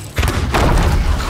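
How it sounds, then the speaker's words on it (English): An explosive barrel blows up in the pirate video game Sea of Thieves, a sudden heavy boom followed by a loud, sustained rumbling roar. "I'm gonna move this explosive barrel in front of the gate. And then when there's a lot of them, we'll just blow it up."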